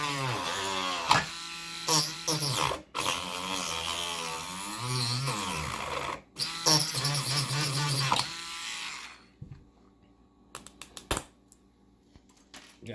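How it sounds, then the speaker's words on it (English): A cordless Dremel rotary tool cuts into a plastic PSA or SGC graded card slab with a close, buzzing whine that bogs and surges and cuts out briefly twice. It stops near the end, leaving scattered clicks and handling noises. "the Dremel might stall out"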